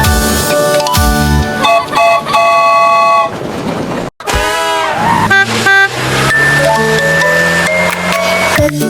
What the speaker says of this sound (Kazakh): Көлік зулап келеді, зір-зір-зір. Жол үстінде жүріп келеді, бип-бип-бип.